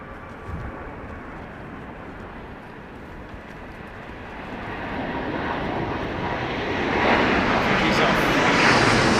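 Austrian Airlines jet taking off at Heathrow Airport during a storm, a broad engine roar that swells steadily toward the end as it climbs, with a voice talking over it.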